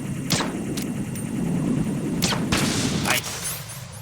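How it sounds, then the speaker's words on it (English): Gunfire in Metal Gear Solid 2: several sharp, loud shots crack out at irregular intervals over a busy rumbling background. "One shot, one kill."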